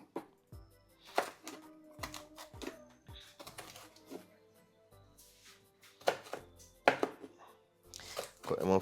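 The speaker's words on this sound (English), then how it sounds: "Get some carrot. Let's chop them up." Carrots are chopped with a knife on a cutting board in a home kitchen, an uneven run of close, crisp thuds in short bursts, with faint voices in the background between the cuts.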